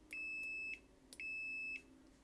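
Two sustained high-pitched electronic beeps from an AstroAI digital multimeter continuity test, each lasting about half a second, separated by a short pause, clear and close.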